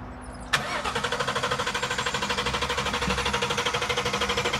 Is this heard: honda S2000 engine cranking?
yes